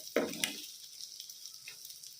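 Chicken frying in a pan for a Telugu-style chicken fry seasoned with kasuri methi, a soft sizzle with a brief stirring clatter near the start, then quiet low crackle.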